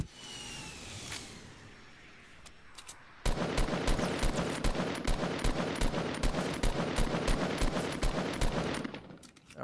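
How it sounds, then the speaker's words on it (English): Rapid automatic gunfire in Fortnite Battle Royale, a long steady burst of sharp repeated shots after a quieter stretch with a few scattered distant pops, loud and close. "That was a far shot"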